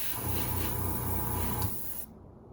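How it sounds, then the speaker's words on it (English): An airbrush spraying lacquer at 15 psi onto a miniature figure, a steady airy hiss that runs for under two seconds and then cuts off abruptly. "I've been spraying at 15 psi this whole time."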